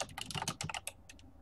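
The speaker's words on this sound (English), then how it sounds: "just typing it in here." Keys clatter on a computer keyboard in quick, irregular bursts of typing, close and clear, pausing briefly before a few final taps, with no voices.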